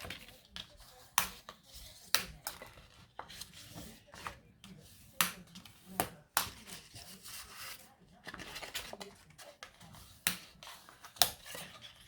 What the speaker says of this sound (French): je vais marquer mes plis